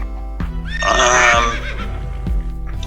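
A horse neighing sound effect: one loud, close whinny that rises and shakes for under a second, framed by a few soft knocks.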